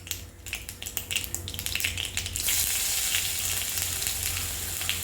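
Ginger dropped into two spoons of hot oil with popping mustard seeds in a Kerala-style kadai, crackling softly before breaking into a loud, steady sizzle that fills the rest of the moment, with scattered sharp pops.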